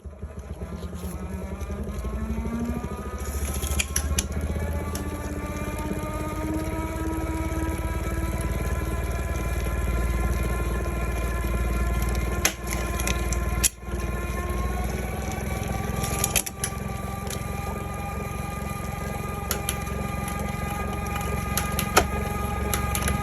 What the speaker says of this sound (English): I'm going to shift it to the top ring